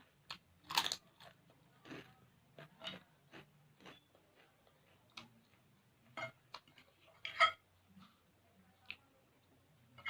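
Crackers (kerupuk) are crunched during a meal, with scattered sharp crisp bites and chewing crunches up close in an otherwise quiet room.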